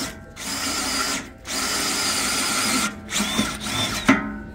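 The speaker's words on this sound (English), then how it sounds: "we're gonna drill right through it" A power drill runs loudly in sustained high-pitched bursts drilling through metal for an underbody truck tool box, with short pauses between, ending in a few shorter revs and a sharp clack.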